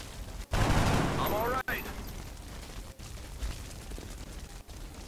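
Gunfire bursts from a war video game, a loud burst of shots near the start followed by quieter intermittent firing, with a person speaking briefly over it.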